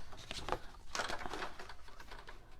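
Scissors cutting down a paper file folder, a run of close, dry snipping and crisp paper rasps in uneven bursts with no talking.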